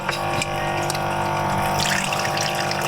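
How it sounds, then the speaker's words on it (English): Hot pasta water pours out as it is drained inside a self-converted Camaro camper, a continuous splashing gush that runs steadily, close and fairly loud, with no talking. "I'm actually gonna drain some of that water inside."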